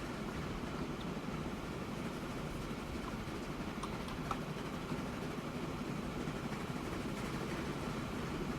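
A steady, even rumble of a freight train rolling along in Transport Fever 2, a continuous broadband roar with no distinct clacks or horn and no talking.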